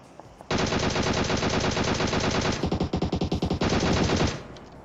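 Sustained automatic gunfire from PUBG Mobile, a loud rapid burst running about four seconds with a stretch of distinct individual shots in the middle, then a quick tail-off.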